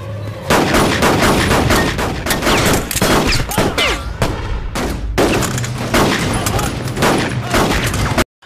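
Rapid pistol gunfire in a film crackles almost nonstop, loud shots piling over each other in a dense barrage before cutting off abruptly.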